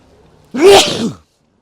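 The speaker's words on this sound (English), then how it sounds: "excuse me, I'm going to sneeze." One loud, close sneeze bursts out suddenly after near silence and ends quickly.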